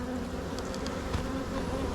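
Honey bees buzz in a dense, steady swarm drone at an open hive during an inspection, close and continuous with a few sharper passes of individual bees.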